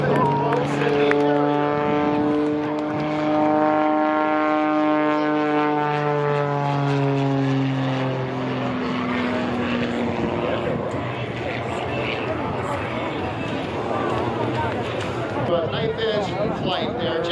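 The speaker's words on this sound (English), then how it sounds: "You need an incredibly powerful airplane to be able to perform that kind of maneuver" An MX2 aerobatic propeller airplane performs at the Boundary Bay Airshow. Its engine drones loudly with a sweeping, shifting pitch as it maneuvers, while an announcer talks over it throughout.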